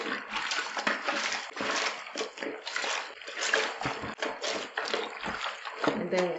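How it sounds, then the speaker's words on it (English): White towels are scrubbed by hand in water, giving repeated wet sloshing and splashing bursts in an irregular rhythm at close range. "now that you wash all around the white towels, we are just gonna give you a rough wash"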